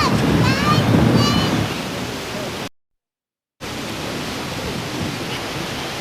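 Strong wind roars across the microphone at an outdoor lawn bowls match in a constant rushing blast, cutting out briefly before the gusting noise returns just as loud.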